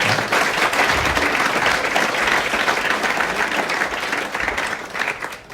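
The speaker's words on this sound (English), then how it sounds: "I think that deserves a round of applause right there." Audience applause at a gala, sustained, dense clapping from a large crowd filling the room at steady loudness, fading slightly near the end.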